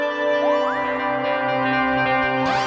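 An atmospheric FM synth pad from the GForce Halogen FM software synthesizer plays sustained chords drenched in reverb, with pitches sweeping upward and tones ringing out steadily before a bright swell near the end.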